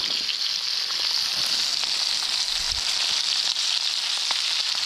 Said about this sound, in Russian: В этом же масле поджариваем жареную уже картошку.